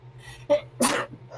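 A single person sneezes at a tabletop role-playing game session, with a short inhaled lead-in and then a sharp, loud burst close to the microphone, followed by faint breathing.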